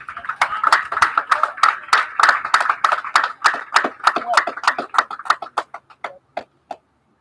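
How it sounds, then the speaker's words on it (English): Scattered applause at a high school baseball senior recognition, sharp individual claps from a small crowd outdoors, fairly steady at first and then thinning to a few last claps before stopping. "Big round of applause, number 13, Braxton Jones."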